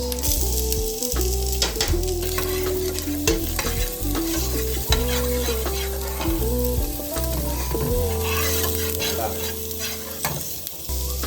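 Onions frying in a pan, sizzling steadily and loudly throughout with stirring scrapes and clatter, while sustained tonal sounds hum underneath.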